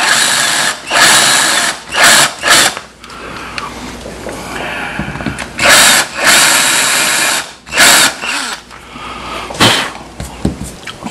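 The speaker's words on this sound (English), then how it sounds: "Now I'm going to index the center with this bit." A power drill bit indexes the center point on a motor mount, loud repeated bursts of whirring drilling broken by brief pauses, close and strong throughout.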